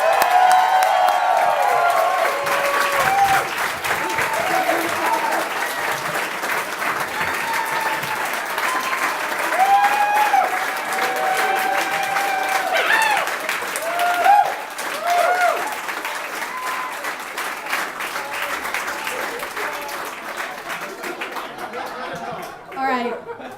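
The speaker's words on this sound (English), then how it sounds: "Why don't we all give a huge round of applause and get Carlee up here on this stage right now" Large crowd applauding and cheering at a mayor-president campaign announcement speech, sustained dense clapping with whoops and chatter running loud for over twenty seconds before tapering off near the end.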